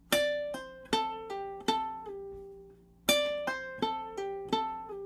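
A single ukulele plays a bouncing riff of plucked notes, close and clear, each ringing and decaying, with a longer held note before the phrase repeats, and no talk.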